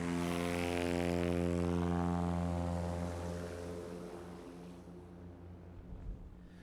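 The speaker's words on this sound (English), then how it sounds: "Good, stable, smooth takeoff there." A STOL competition airplane takes off at a Texas airfield, its propeller engine droning steadily and loud at first, then fading as it climbs away, with no talk over it.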